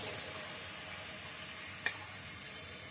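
Sliced onions hit hot oil in a wok, giving a continuous, even sizzle at moderate distance, broken once by a single sharp clink of a utensil against the pan.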